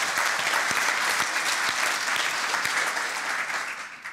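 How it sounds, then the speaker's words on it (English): An audience at a panel discussion gives a speaker a sustained round of applause, dense and even, tapering slightly toward the end. "Yeah, applause."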